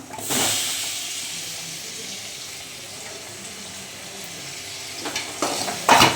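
Onions, and then tomatoes, sizzle as they sauté golden in a pan on a home stove, a soft steady hiss with a few sharper clinks and stirring sounds near the end.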